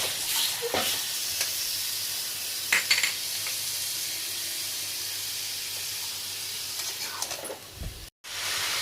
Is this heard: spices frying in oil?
yes